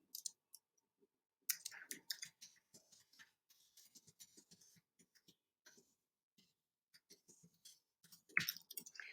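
Mouse clicks in a quiet WeVideo screencast, sparse sharp ticks scattered across near-silence with a few soft handling noises, close and faint.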